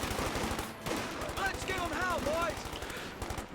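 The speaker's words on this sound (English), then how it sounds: "50 cal trying to hit this other Jaeger light infantry" Bursts of .50 cal machine-gun fire rattle out in a strategy video game battle against Jaeger light infantry, rapid rhythmic thuds running throughout while someone talks over it and brief whistling effects pass in the middle.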